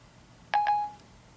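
Two short dialing tones from an Apple iPhone 4S placing a call, the second ringing out briefly before fading, alone over quiet background.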